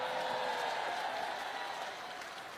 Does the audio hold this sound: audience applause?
yes